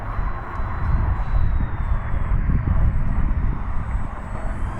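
An E-flite Commander MPD 1.4 m RC plane flies in to land with flaps down, its motor giving a steady moderate drone with a faint high whine, heard alone.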